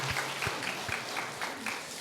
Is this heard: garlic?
no